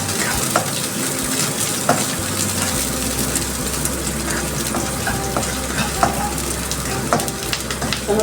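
Sliced onion frying in a little oil in a pan, a steady close crackling sizzle with occasional stirring clicks and scrapes, no talk over it.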